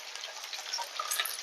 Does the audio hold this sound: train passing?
no